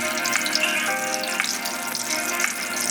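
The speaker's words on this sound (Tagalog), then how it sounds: "simulan na po natin ang pagpriprito para makagawa po tayo ng tortang talong" Eggplant omelette, tortang talong made with grilled peeled eggplant, frying in a pan: a steady, close sizzle and crackle of oil with small popping bursts throughout, no voices.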